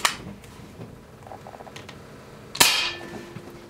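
Two sharp cracks from a Kral Puncher Jumbo .25 air rifle, one at the start and a louder one near the end, each followed by a short ring, with quiet handling between.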